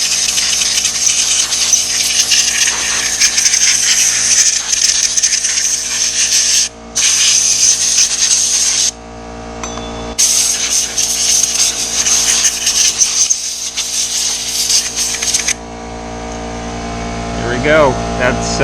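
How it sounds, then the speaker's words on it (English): Compressed air blasts at close range onto a motorcycle brake caliper in long loud hissing bursts with brief pauses, while an air compressor hums steadily in the background. "I'm just going to take some compressed air"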